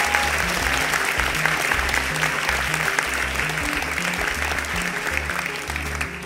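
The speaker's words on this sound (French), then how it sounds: "Applaudissez Judith, s'il vous plaît." A live audience applauds guest Judith Duportail, dense sustained clapping from a full room that holds steady throughout without any talk.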